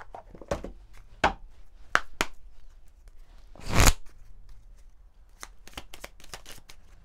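Small oracle cards being shuffled by hand, a run of quick crisp riffling bursts and soft slaps with one longer dense riffle in the middle, close and fairly quiet with no talking.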